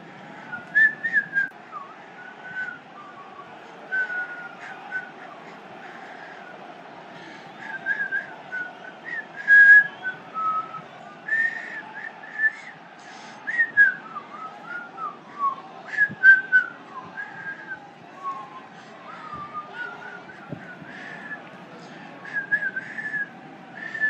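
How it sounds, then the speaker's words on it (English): A person whistles a tune during a seventh-inning stretch, a steady melodic whistle over a low background hum from a PC baseball replay game. "I'll whistle."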